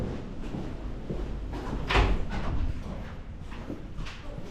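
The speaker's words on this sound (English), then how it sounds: "Oh, the door's here. I didn't see it." A house door opens or closes with a single fairly loud thud near the middle, set against steady background noise and no speech.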